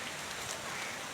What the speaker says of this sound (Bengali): বৃষ্টির মধ্যে ভিডিও হচ্ছে